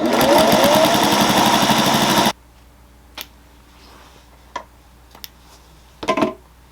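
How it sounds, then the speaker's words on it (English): A sewing machine stitches a quilted pot holder, running in a steady, fast mechanical whir for about two seconds before stopping; a few faint clicks and handling sounds follow in the quiet. "we'll put this back into the sewing machine"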